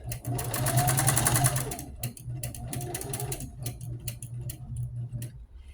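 Sewing machine stitching rows of a bulky rag quilt: a fast, steady mechanical whir and needle clatter runs close, then slows and breaks into stop-start bursts as the stitching pauses and resumes.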